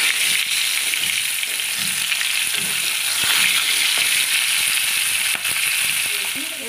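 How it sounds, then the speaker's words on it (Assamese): Small fry of bhakua fish sizzle in a hot pan. The frying hiss is close, dense and loud, and it runs steadily without a break. "ভাজি আছোঁ মাছ"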